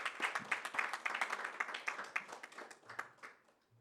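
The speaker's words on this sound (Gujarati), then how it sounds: "ફરીથી એકવાર જોરદાર તાળીઓથી આ ભક્તોની" A crowd of devotees at a religious katha gathering claps vigorously in warm applause, a dense burst of many hands that gradually thins and fades out near the end.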